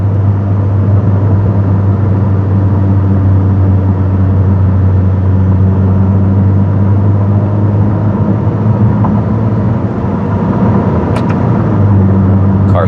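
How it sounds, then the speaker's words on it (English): A 2023 Ferrari SF90 Stradale engine with a Novitec exhaust hums steadily at a low, even idle-to-cruise drone, close and continuous, with a brief faint click near the end. "The car sounds amazing."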